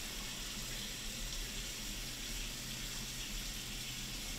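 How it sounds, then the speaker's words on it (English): Water running steadily from a kitchen sink faucet, a constant close broadband splash and rush with an underlying low hum, no speech. "Let's run some water first."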